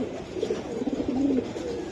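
Giribaz racing pigeons coo softly up close, a low rolling murmur of calls rising and falling over a faint steady background hum.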